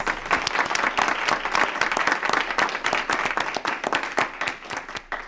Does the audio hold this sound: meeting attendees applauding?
yes